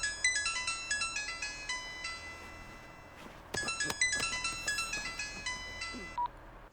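A phone ringtone plays a bright repeating electronic melody in two rounds with a brief pause between, clear and fairly close, with no voices.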